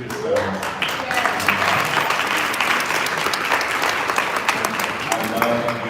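A room full of women applaud together at a celebration event, a loud, steady wash of clapping that fills the whole stretch, with a few cheers and voices mixed in near the end.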